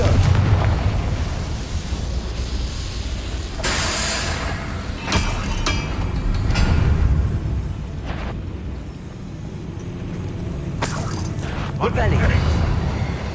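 Fire spell explosions in the video game Hogwarts Legacy burst out several times, sharp loud blasts separated by gaps, mixed with game sounds and spoken lines.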